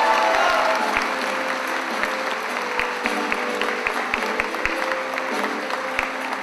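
Audience applause at a Christmas concert, steady dense clapping from a crowd throughout, with a few sharper claps standing out near the front, moderately loud.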